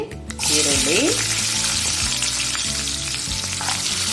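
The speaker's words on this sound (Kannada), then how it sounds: "ಈರುಳ್ಳಿನ ಚೆನ್ನಾಗಿ ಫ್ರೈ ಮಾಡ್ಕೊಳ್ಳಿ. ತುಪ್ಪ ಹಾಕಿರೋದ್ರಿಂದ ವಾಸನೆ ಗಮ್ ಅಂತ ಬರ್ತಾ ಇದೆ." Onions frying in hot ghee for bisi bele bath, a loud, bright sizzle that bursts up after a short opening clatter and then carries on steadily, with a low hum and some faint tonal noise underneath.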